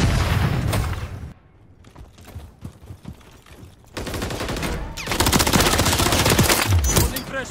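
Gunfire in Call of Duty: Modern Warfare 3 multiplayer, loud automatic bursts that cut off into a quieter stretch of scattered shots and clicks, then heavy sustained fire returns with a deep boom near the end.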